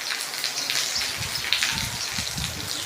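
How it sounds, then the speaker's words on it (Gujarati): Steady rain pouring down during a monsoon downpour, a dense continuous hiss growing heavier, with low rumbling patter from drops striking surfaces close by. "હરવી વરસાદ પણ વધતો આવે છે ચારીક કોર."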